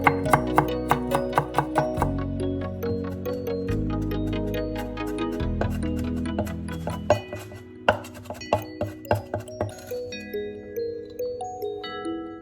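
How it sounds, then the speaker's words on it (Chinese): A knife chops garlic into fine mince on a cutting board, a fast steady run of sharp close taps followed by slower, separate knocks near the end, with no voices. "切成蒜末"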